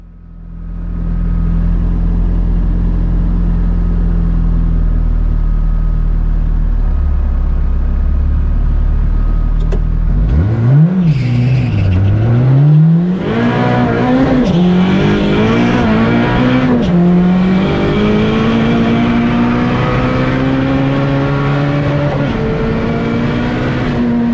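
A 480 bhp VTEC turbo classic Mini makes a quarter-mile drag strip run at Santa Pod: a steady idle gives way to a loud launch, then the engine screams through rising gear pulls, close and continuous, with no talk.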